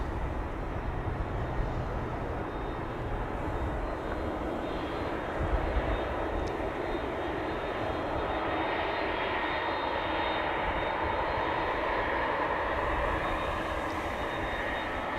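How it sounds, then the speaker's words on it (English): Turkish Airlines A330-300 jet passing at Amsterdam Schiphol Airport, a long steady engine roar with a thin high whine, slowly swelling and fading, heard alone. "Turkish flight 1952 to Istanbul is coming this way."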